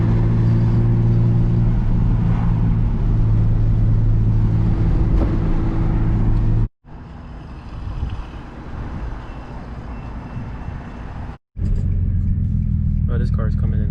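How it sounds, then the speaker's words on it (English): A car roars past fast on the road, a loud dense engine and road rumble filling the whole stretch, broken by two abrupt short cuts. "Oh, this car is coming in hot."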